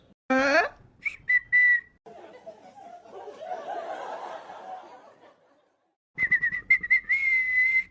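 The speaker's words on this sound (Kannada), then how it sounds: "ಏನು ಸಿಟಿ ಓದೋ ಸೌಂಡ್ ಜಾಸ್ತಿ ಆಗ್ತಾ ಇದೆ" A whistle blown by a man in short shrill bursts, several quick toots at the start and again near the end, with muffled chatter and murmuring in between.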